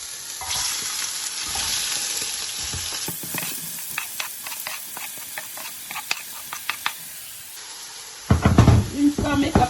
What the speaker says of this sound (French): J'ai chauffé l'huile, je rajoute les oignons de 2 côtés.